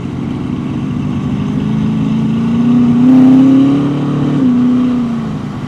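A Corvette engine drones close by, the note rising and swelling to a peak around the middle before easing off again as the car passes, with no talk over it.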